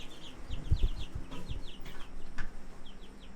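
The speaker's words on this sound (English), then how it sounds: "These are our laying hens that we hatched from our existing laying hens" Laying hens on a Vermont homestead clucking in the morning, several soft overlapping clucks and murmurs at close to moderate distance, with low farmyard rumble and handling noise underneath.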